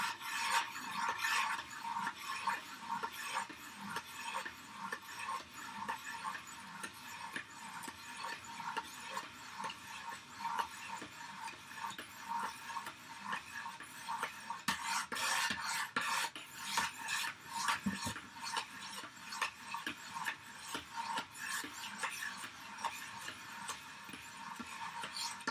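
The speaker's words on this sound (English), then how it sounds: "So I've never sharpened this knife before, so I'm going to have to do a little bit of, I guess, profiling." A knife is sharpened on a Wicked Edge sharpener, with steady rhythmic rasping strokes of the stones along the blade, close up and continuous with no talking.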